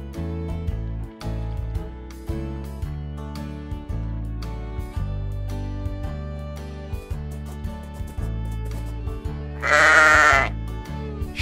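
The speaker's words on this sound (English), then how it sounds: "Sheep." A cartoon sheep gives a single loud, wavering bleat near the end, standing out over steady, looping background music.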